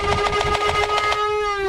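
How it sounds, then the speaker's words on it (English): A toy foam dart blaster's flywheels spinning at full speed: a high-pitched motor whine with a rapid pulsing whir that smooths out near the end, steady and close. "Then the blaster sounds like this."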